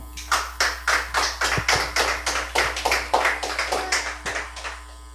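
A congregation at a Christian sermon gives loud, rhythmic clapping for the Lord, about twenty sharp, evenly spaced claps in a steady beat, close and distinct, with a faint low hum underneath.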